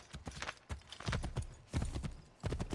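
Horse hooves clip-clopping in Assassin's Creed III Remastered, a quick irregular patter of soft thuds at close range with no voices over them.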